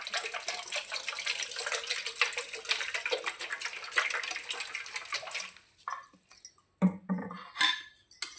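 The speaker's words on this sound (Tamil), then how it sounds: "இதில் தேவையான அளவுக்கு நம்ம தண்ணி ஊற்றிக்கலாம்" Water pours steadily into a metal steamer pot for several seconds, then stops, followed by a few scattered clinks and splashes.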